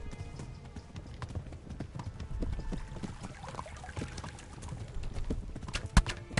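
Rhythmic clip-clop of a horse's hooves running at a fast pace in the video game Kingdom Come: Deliverance, mid-distance, with a sharp thump near the end.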